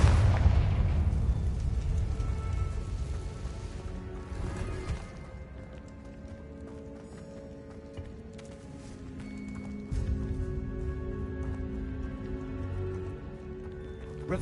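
Confringo blasting spell in the game Hogwarts Legacy, a loud booming explosion at the start that rumbles and fades, followed by softer game effects and lingering tones.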